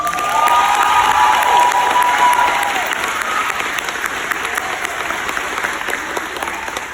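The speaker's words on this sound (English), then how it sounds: "That deserves another round of applause." A large audience at a 5th grade graduation ceremony at an elementary school in Atlanta claps loudly and continuously, with scattered cheers and whoops early on, the applause gradually easing.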